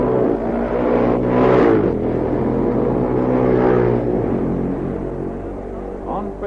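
Racing motorcycles at Braddon Bridge on the Isle of Man TT course, including Bob McIntyre and Noel McCutcheon, roar past close by, their engines swelling and fading, with a crowd or commentary murmuring underneath.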